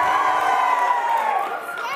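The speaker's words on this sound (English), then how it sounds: "give them an even bigger cheer." A church congregation cheers loudly on cue, a dense roar of voices with high whoops and children shouting, sustained and then easing slightly toward the end.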